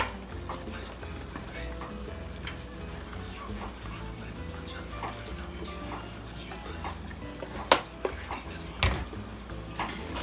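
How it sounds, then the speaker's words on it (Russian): Spiced meat for nachos sizzles and simmers in a pan while being stirred, a continuous close frying hiss with scattered utensil scrapes and a couple of sharper clanks near the end, and a dog seems to bark faintly. "все хорошо нужно перемешать, еще минутки 3 оно прокипит"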